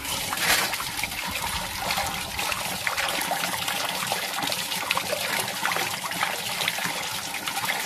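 Running water pours and trickles through pork intestines as they are rinsed, a steady splashing gurgle that is close and moderately loud, with no voices.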